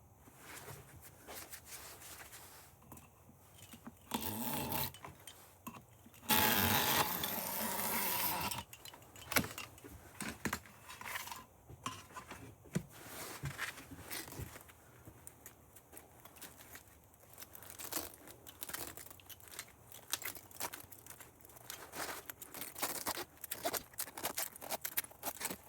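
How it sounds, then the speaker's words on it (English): A knife slits lengthwise down an ACR copper-aluminium radiator tube during scrapping, making faint scraping, tearing and clinking sounds in irregular bursts with one louder rasping stretch, close by and with no talk. "I'm going to take my knife and just cut down the length of it."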